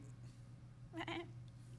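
A person mimicking a lamb's bleat, one short wavering call in a quiet room over a steady low hum, faint overall.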